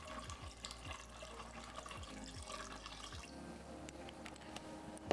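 Tap water runs and pours into a cooking pot, a soft continuous splashing stream with low gurgles as the pot fills, quiet and close with no talking.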